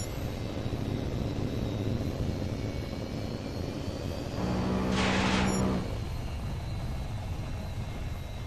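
Jet fighter cannon fire at an AWACS plane in the video game HAWX 2: a single rapid burst of about a second rises over a steady, loud aircraft engine drone, with no talking.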